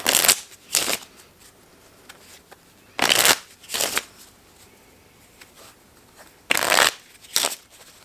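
Cards being shuffled in three separate bursts, each a quick crisp riffle of two short flurries, separated by quiet pauses; close and clear.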